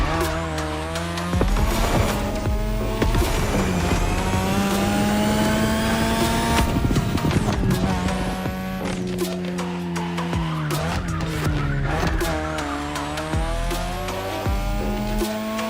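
A 3rd Gen 2002 Mazda RX-7 with a rotary engine in The Crew Motorfest, revving with a high buzzing whine, shifting pitch, and long squealing tire skids as it drifts, loud and close throughout.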